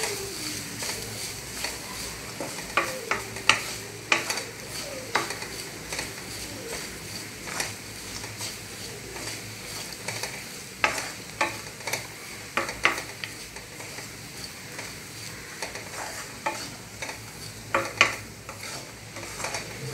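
Grated coconut frying in ghee in a pan while being stirred, with repeated spatula scrapes and clicks over a continuous sizzle, close and alone.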